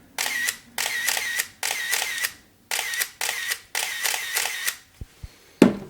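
A Canon EOS 1 film SLR fires its shutter repeatedly in close, crisp bursts of motor-driven clacks, six groups separated by short pauses, followed by a few faint ticks and a final sharp click.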